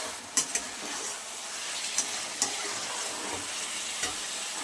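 Spices sautéing in a pan for a katla fish curry with eggplant and potato, giving a steady bright sizzle with a few light scraping stirs on top.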